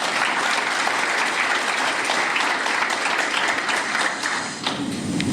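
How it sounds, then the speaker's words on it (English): Sustained audience applause for young Republican club officers, a dense wash of many hands clapping steadily throughout, loud and close with no voices on top. "Please give them a round of applause"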